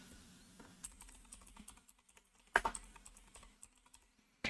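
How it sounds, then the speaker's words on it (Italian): Quiet tapping of keys on a computer keyboard, irregular clusters of soft clicks with a few sharper strokes, close by and alone. "nel motore di ricerca che preferiamo andiamo a digitare Gentiluomo Digitale."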